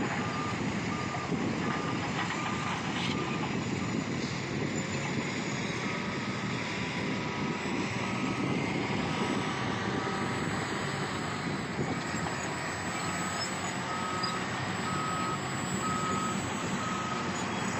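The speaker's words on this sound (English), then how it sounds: "you're going to see dozers pushing scrapers to try to get earthwork up" Earthmoving on an airport realignment site, dozers pushing scrapers and dump trucks working across roughly 60 acres, a constant heavy engine roar under repeated high reversing beeps that sound in short runs near the start and again toward the end.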